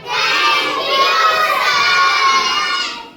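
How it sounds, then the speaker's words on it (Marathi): A crowd of schoolchildren shouting loudly together at school, a dense, sustained roar of young voices that holds steady for a few seconds before fading. "आणि किती ओरडता जोरात"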